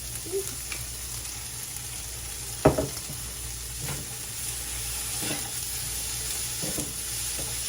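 Vegetables sweat down in a hot pan for a burger recipe, giving a steady close sizzle broken by a few scraping stirs of a utensil, with no talk.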